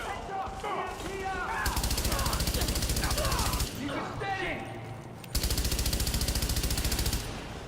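Two long bursts of rapid automatic gunfire from the video game The Division ring out loud and close, each lasting about two seconds, separated by quieter game sounds with chirpy effects.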